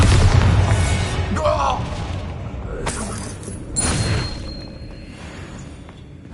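Bombarda blasting spell explosion in the video game Hogwarts Legacy: a loud booming blast at the start, then a few sharp crashing bursts fading into rumbling decay.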